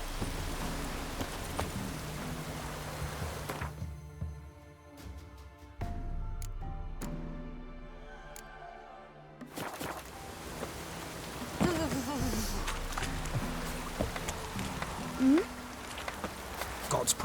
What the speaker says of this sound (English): Proper downpour. Clouds to burst.